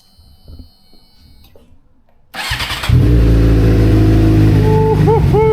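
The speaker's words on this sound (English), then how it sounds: "we're about to do a cold start" A flipped motorcycle running on fresh 93-octane gas makes a cold start: quiet shuffling, then the starter cranks and the engine catches into a loud, steady idle with a few quick revs, close by.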